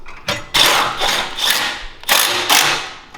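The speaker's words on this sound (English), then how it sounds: "So I'm going to start this longer 6mm bolt." A long M6 bolt is threaded into a 105cc mini bike frame, producing close, loud bursts of ratcheting metallic clicks in several separate runs with short pauses between them.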